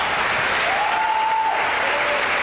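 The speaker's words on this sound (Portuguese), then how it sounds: "dá uma salva de palmas" A church congregation applauds steadily at a Zion worship service, a dense wash of clapping throughout with a faint sustained tone drifting above it.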